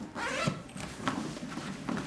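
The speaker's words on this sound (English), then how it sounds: "I just want to show you this zipper thing." Zipper on a MagBox 24 Pro kit case pulled in several quick, close strokes, a raspy rhythmic zip repeated about three times.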